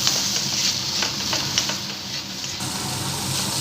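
A pasta sauce tadka with pepper and oregano stirred in a pan, a soft steady sizzle with light scraping spoon strokes repeating throughout, no voices.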